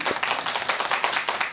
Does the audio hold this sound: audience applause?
yes